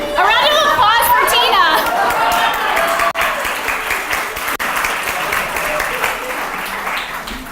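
Audience at a school curriculum review evening bursts into loud applause, mixed with chatter and children's voices, the clapping continuing steadily and slowly thinning toward the end.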